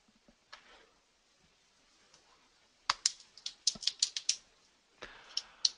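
Fast clusters of computer keyboard keystrokes click close and crisp after a quiet stretch, with a few isolated taps before the main burst of typing.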